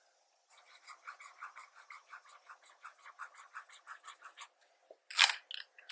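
A fine-nib BENU Golden Beach fountain pen scratches across paper in a quick, steady run of short strokes, close and crisp, ending with one louder scrape and a few final strokes.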